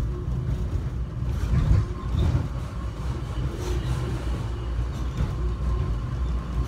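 An airport subway train heading to Terminal A rolls slowly, giving a steady, even rumble heard from inside the car with no break or change.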